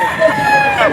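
Rooster crowing loudly and close at a gamefowl market in Bocaue, one drawn-out crow lasting under a second.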